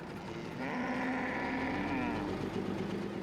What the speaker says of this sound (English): The Pearl roam the savannah with their cattle, always looking for food for their animals.